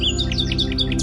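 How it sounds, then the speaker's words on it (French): Birds in a forest clearing chirp in quick repeated tweets, several calls overlapping over a steady low hum, close and clear with no voices. "Un autre oiseau se joint à lui,"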